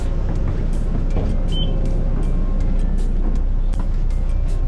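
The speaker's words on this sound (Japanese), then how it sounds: "2014年式ブルーリボン2でした。" A 2014 Blue Ribbon II route bus gives off a steady, close low engine rumble with a constant drone and a few faint clicks and knocks, with no voices over it.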